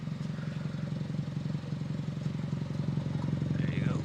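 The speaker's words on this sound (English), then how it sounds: "Just installed is a Skunk2 megapower Catback exhaust, very loud" A Honda with an R18 engine, header and Skunk2 Megapower cat-back exhaust idles close by with a steady, deep, throbbing burble that holds at an even loudness throughout.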